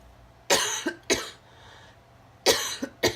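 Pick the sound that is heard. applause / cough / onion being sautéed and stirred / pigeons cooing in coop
cough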